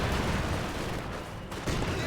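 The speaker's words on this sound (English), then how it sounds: "if you rifle grenade a guy in cover in the back, you will get a flanking bonus and you will wipe them" Rifle grenade detonations and gunfire in a Company of Heroes 2 battle, a dense, loud burst of explosive noise filling the whole moment without a break.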